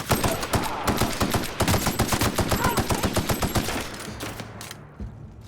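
Rapid automatic gunfire in The Outer Worlds rattles off in a steady, loud string of close shots that thins out and stops near the end, leaving a quieter tail.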